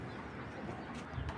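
A restless female racer pigeon coos softly, a few low throaty murmurs under faint background rustle, close but quiet.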